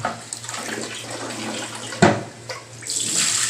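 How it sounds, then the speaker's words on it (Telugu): Tap water runs into a sink as raw chicken is washed by hand, with a steady splashing stream, a sharp clatter midway and brighter gushing near the end, close and without speech. "ఇట్లా ఇట్లా రెండు మూడు సార్లు బాగా కడిగేస్తాము"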